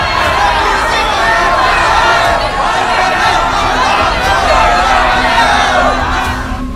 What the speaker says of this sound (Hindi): उन्हें कमरे के बाहर से बहुत सारे लोगों की आवाज़ें आने लगती हैं।